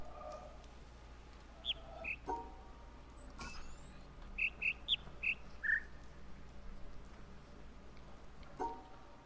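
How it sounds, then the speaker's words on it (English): Birds in the video game The Witness give thin, high chirps, scattered and faint over a low ambient hum. Some are isolated and a few come in a quick cluster. "I wish that we weren't close to the bird thing."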